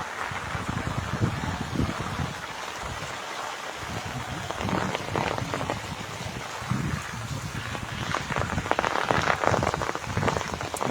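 Heavy rain driven by wind pours steadily, with dense splashing patter on surfaces and gusty surges that swell louder toward the end, close and continuous with no voices.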